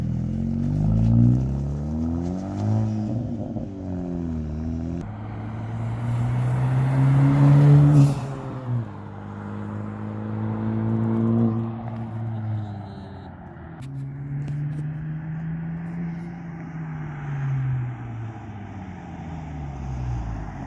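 A 2020 Honda Civic Si with a MAPerformance exhaust revs and accelerates past outside, its engine note rising and falling through repeated gear changes before fading off, loud and close.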